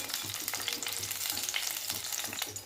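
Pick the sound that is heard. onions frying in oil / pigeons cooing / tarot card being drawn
onions frying in oil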